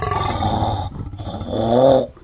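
A voice imitates a lion's growl in two rough, low, throaty bursts separated by a brief pause, close and loud, with no other sound around it.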